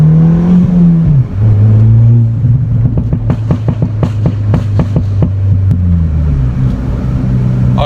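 A 2016 Ford Fiesta ST turbo hatchback with a cold air intake idles, then its engine is blipped in a quick series of sharp revs, loud and close, before settling back to idle.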